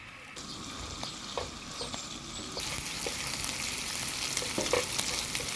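Onion, garlic and tomato paste sauté quickly in oil and butter for a homemade Italian pizza sauce, a steady close sizzle and crackle that grows louder partway through, with occasional clinks of stirring.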